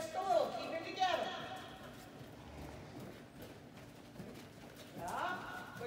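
Hooves of a 16.2-hand Hanoverian gelding clip-clop during a dressage riding lesson, a few soft, muffled footfalls heard moderately close beneath an instructor talking.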